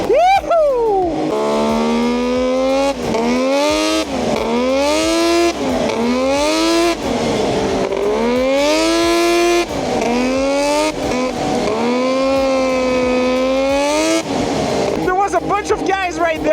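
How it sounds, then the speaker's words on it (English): A 140HP sleeper ATV with an SRX 700 engine accelerates hard, its engine screaming and rising in pitch through repeated gear pulls, loud and close, with excited shouting over the roar. "The pure sound of the SRX 700 hitting the power band is so unique."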